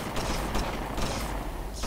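Flak cannons in the video game Guns of Icarus fire in a dense, rapid barrage of booming blasts, loud and continuous for the whole moment with no talk.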